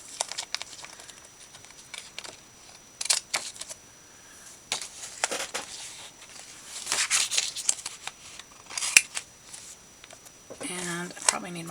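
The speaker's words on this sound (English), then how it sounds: "we will cut this" Scissors cutting paper for junk journal papercraft, a close, irregular series of crisp snips and paper rustles, some louder bursts, with a voice speaking briefly near the end.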